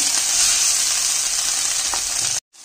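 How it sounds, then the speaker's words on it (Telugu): Drumstick leaves and ponnaganti leaves fry in oil in a pan, a loud, close, dense sizzling hiss that holds steady and then cuts off abruptly before a brief quieter return. "పాన్లో ఇప్పుడు మునగాకు ఫ్రై అండి మునగాకు లే అలాగే పొన్నగింటి ఆకు కూడా వేస్తున్నాను"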